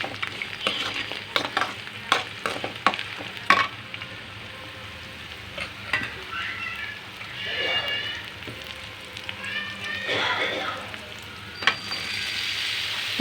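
Poha is stirred and fried in a pan, giving a soft sizzle with scattered clinks and scrapes of a spoon against the pan, fairly quiet and close, with some faint background voices.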